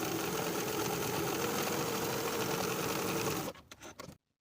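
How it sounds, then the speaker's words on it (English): A sewing machine runs steady and close as it stay-stitches the top raw edges of a pants yoke at about a half-inch seam allowance, then slows to a few short stops before going quiet. "we're going to stay stitch along the top raw edges of the yoke, just stitching with about a 1/2 inch seam allowance"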